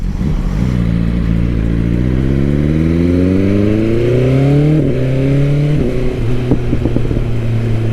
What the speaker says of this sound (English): Quick shifter doing its job, working fantastically. Downshift too. Upshifts with no issues.